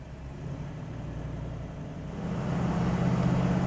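A 1970 Dodge Challenger R/T with a 440 engine running on the road, its low, steady engine rumble rising gradually in loudness as it accelerates, with no voices.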